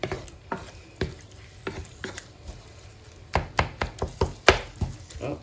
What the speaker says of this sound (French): on mélange bien et on laisse cuire tranquillement